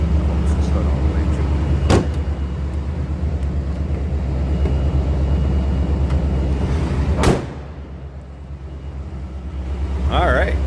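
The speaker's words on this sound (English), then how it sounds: "Close this hood all the way" The hood of a 1987 Chevrolet C20 Silverado Suburban with a 454 engine comes down in one heavy, close slam, following a steady loud rumble that drops away just afterward.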